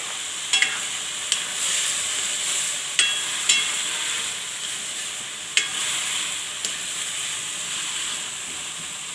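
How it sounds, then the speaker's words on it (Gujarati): Cauliflower and bottle gourd sizzle in hot oil with turmeric and salt, a steady close hiss broken by a few sharp clicks of a spoon against the pan. "તો હવે આપણે આને તેલમાં સડવા દેવું."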